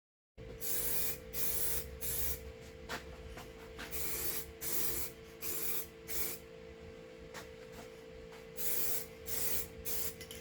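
Aerosol sandable primer is sprayed onto a Jeep JK side mirror in repeated short hissing bursts of about a second each, separated by brief pauses, close to the listener.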